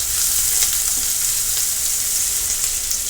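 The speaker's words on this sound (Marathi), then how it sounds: "आता आपण कांदा कापून घेतलेला तो टाकणार आहोत त्याच्यामध्ये तो देखील आपण लालसर भाजून घेणार आहोत" Chopped onion frying in a pan with garlic, a loud, constant close sizzle with no speech.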